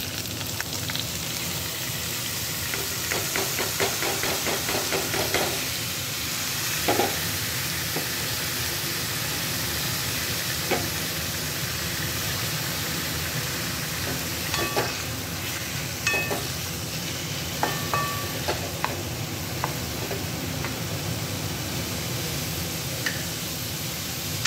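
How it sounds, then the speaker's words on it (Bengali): Chopped cucumbers tipped into a hot pan set off a broad steady sizzling hiss, with occasional light clinks and stirring scrapes scattered over a long, even stretch, no one speaking. "এবার আমি কেটে রাখা শসাগুলো এখানে দিয়ে দেবো।"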